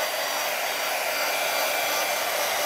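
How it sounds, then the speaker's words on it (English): A heat gun blows hot air over a wet watercolor painting, giving a loud, steady, unbroken whoosh that fills the whole stretch close to the microphone, with no talking. "Let's just hit that with the heat dryer real quick."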